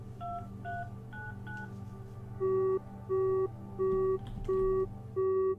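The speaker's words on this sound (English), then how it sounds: "there's the cell phone we were searching for. Hello, dialing." A cell phone in the video game The Final Station dials out with a quick run of short touch-tone beeps, then gives a string of five evenly spaced, louder repeating tones, clear and alone.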